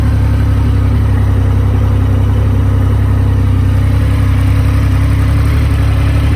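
A 2020 Triumph Rocket 3 GT motorcycle on the road: the engine gives a loud, steady, low drone mixed with wind rush, unbroken for the whole stretch.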